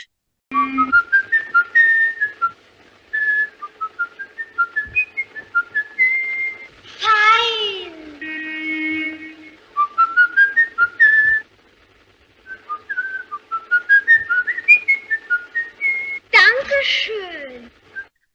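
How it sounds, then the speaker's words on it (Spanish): A man whistles a melody from Grieg's Peer Gynt in a film, in clear, bouncy phrases with short pauses, and a few brief bright tones and swoops break in midway and near the end. "el asesino cuando va a acechar a sus víctimas silba una melodía de Peer Gynt"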